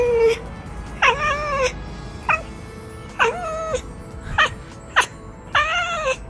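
A cat meows several times in a row, close and fairly loud, with short gaps between the drawn-out calls and no talking.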